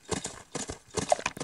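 Horse sounds from the video game Horse Riding Tales: rhythmic clip-clop of hooves in steady bursts with a brief neigh-like tone, moderately loud and close.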